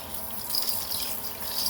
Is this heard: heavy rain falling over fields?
no